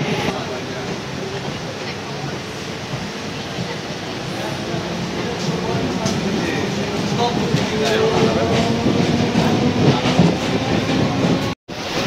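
A Sealdah–Chakdaha morning local train rolls along steadily with a loud, continuous rumble and faint rhythmic wheel clatter from inside the carriage, a brief cutout near the end.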